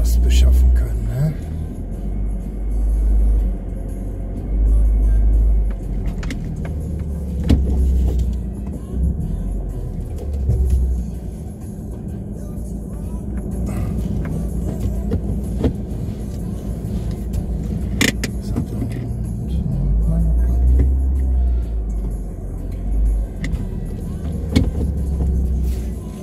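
A small car drives along with a steady low engine rumble and road noise, its tone shifting slightly with speed, while people talk over it throughout.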